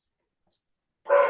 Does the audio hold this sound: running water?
no